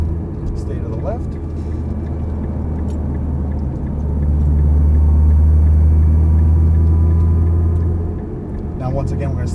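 Nissan GT-R driving a cone-marked track course, a low continuous engine drone that swells louder mid-clip, heard under a man giving driving instructions.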